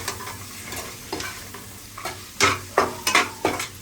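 Masala and peas frying in a pan while a spoon stirs them, giving a soft sizzle under a string of sharper scraping strokes that get louder toward the end.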